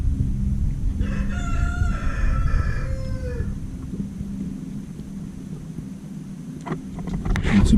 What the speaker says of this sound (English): Got chicken in front of the house.